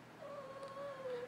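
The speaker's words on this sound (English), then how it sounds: "I have a cat here." A cat gives a single drawn-out, whining meow lasting just over a second, close by and fairly clear against a quiet indoor room.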